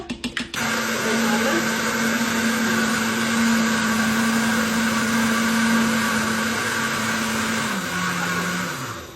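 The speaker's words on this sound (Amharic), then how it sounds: "አሁን ይሄንን በደንብ አድርገን በ2 ደቂቃ እንፈጨዋለን።" An electric blender grinds batter with a cup of milk, starting with a few short pulses and then running as one loud, continuous whir that holds steady before its pitch drops slightly near the end.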